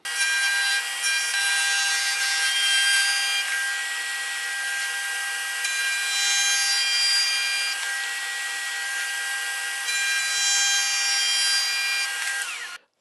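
A wooden jig piece is cut out on a router table setup, producing a loud, sustained rasping whine from the cutter working through wood, steady for about twelve seconds before stopping.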